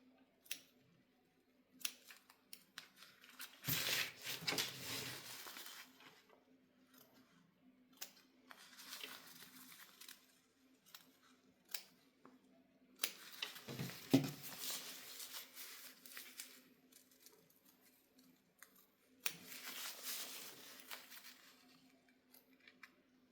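Scissors snipping the corners of a cloth diaper, heard as a few separate bursts of crisp cutting with quieter handling between them, close up and without talk.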